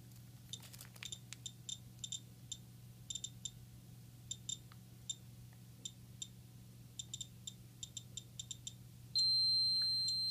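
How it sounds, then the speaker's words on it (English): A pocket Geiger counter held to Vaseline beads crackles with rapid, irregular high-pitched ticks, then a shrill, continuous piezo alarm tone sounds loudly for the final second, over a low background hum. "So there you go, there's the alarm going off with the sound and the LED"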